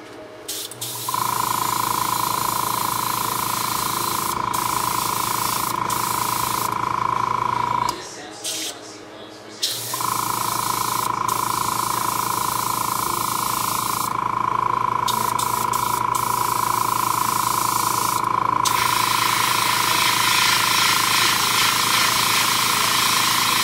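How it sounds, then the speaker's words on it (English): Airbrush spraying gloss black paint onto an Iron Man Mark 3 armor part: a steady hissing spray runs almost continuously at close range, with one short pause partway through and a constant low hum underneath. "I'm gonna go ahead and lay down a quick area here with the gloss black, which I've loaded up in my airbrush"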